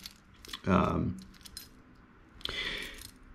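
Keys on a key ring jangle in two short metallic bursts, close and bright, with a person speaking quietly around them.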